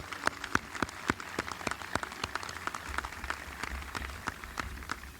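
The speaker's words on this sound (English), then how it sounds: "let's give him a round of applause" Scattered audience applause at an outdoor Memorial Day ceremony at the Virginia War Memorial: sparse, separate claps heard from a distance, faint against a quiet open-air background.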